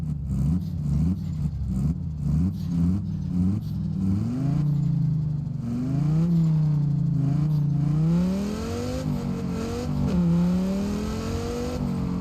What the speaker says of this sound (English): We're just gonna have a quick drive round to hear the sound now of this beautiful car